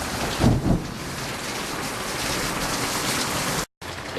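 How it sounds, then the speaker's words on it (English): Heavy rain pouring outdoors during a thunderstorm, a dense steady roar with a low rumble of thunder near the start. "maybe you'll be able to hear the thunder now"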